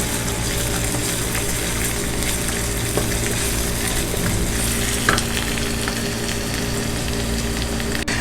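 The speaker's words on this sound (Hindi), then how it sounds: "अब हमारा लहसुन और अदरक का पेस्ट फ्राई हो चुका है।" Steady, dense sizzling of garlic and ginger paste frying in a hot pan, continuous and close with occasional pops and stirring scrapes.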